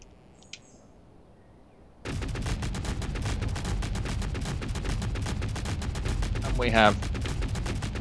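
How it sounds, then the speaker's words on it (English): Four autocannons in the video game Space Engineers open fire after a quiet start, a loud, rapid, sustained stream of shots; a voice speaks briefly before the firing begins. "just let's add in our four autocannons"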